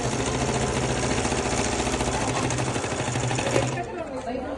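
A sewing machine stitches a school uniform at a fast, steady run, loud and close throughout, then stops abruptly shortly before the end.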